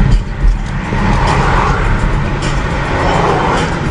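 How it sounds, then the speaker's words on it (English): Steady car traffic rolling across a bridge in San Francisco, a continuous broadband roar of tires and engines close by, with no distinct single vehicle standing out. "Sure, millions of cars pass."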